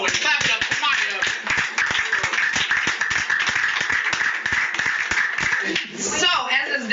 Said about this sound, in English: Clap it up for Maya